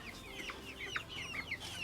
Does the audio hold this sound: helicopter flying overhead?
no